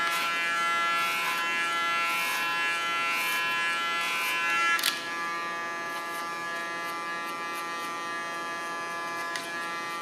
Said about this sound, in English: Again, against the hair flow, I comb with my clipper.